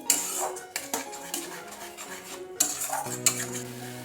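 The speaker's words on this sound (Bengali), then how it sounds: "দিয়ে ভালো করে একটু সব কিছু কষিয়ে নিচ্ছি" Chickpea masala with salt being stirred in a pan, a spoon clinking and scraping against the metal with scattered sharp taps and steady scraping, close and clear, no talking.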